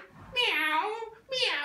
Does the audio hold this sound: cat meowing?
yes